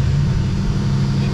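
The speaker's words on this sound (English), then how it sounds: "This is a cold start." A 1976 Ford Mustang II engine runs just after a cold start, a steady, loud, low rumble heard close up with no talking.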